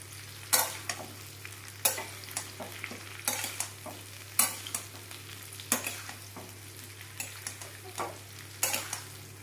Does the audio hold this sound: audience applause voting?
no